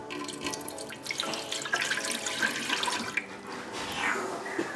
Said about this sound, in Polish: na początku dodam 320 ml wody